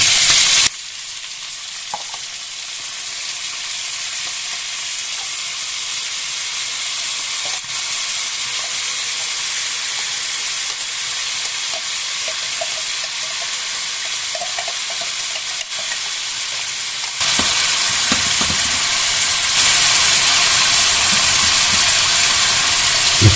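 Onion and garlic added to a pan where beef has been cooking, a loud, steady close sizzle and hiss with occasional stirring that grows louder and brighter near the end, with no talking.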